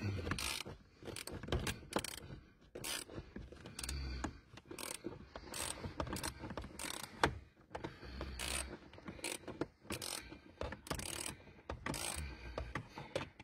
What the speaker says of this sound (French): Douille de 8.